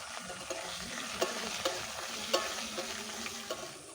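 Chopped onion sizzles steadily in hot oil with curry leaves and fried dal while a spoon stirs it, sharp scraping clicks recurring about every half second; no one speaks.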